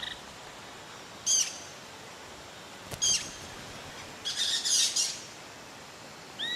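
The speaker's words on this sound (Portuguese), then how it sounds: "os pássaros se reúnem no alto das árvores, como um bando de tiribas de orelha branca" Harsh, high-pitched calls of a flock of white-eared parakeets gathered high in the trees in southern Bahia burst out in three short clusters, the last a longer chattering flurry, over a faint steady background hiss.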